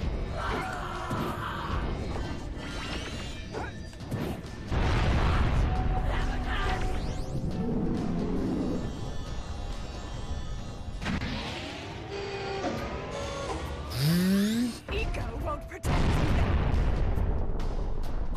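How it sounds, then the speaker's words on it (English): Game explosions in Jak and Daxter played in first person: repeated booms and crashes with bursts and pops through a busy, loud mix, with a player talking at moments. "Cool guys don't look at explosions."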